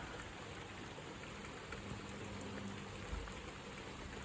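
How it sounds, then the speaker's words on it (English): Steady rain falls on a garden on a chilly, overcast day, a continuous soft hiss of drops pattering on plants and surfaces, even and close throughout with no voices. "Honestly, the amount of rain."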